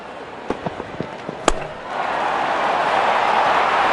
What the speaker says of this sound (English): Well, that's a massive six. Made a cracking sound of the bat.